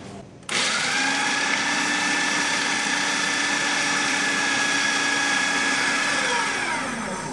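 An electric food processor chops and mixes ingredients in a home kitchen, its motor starting abruptly and then running as a steady loud whir for about seven seconds, with no one talking.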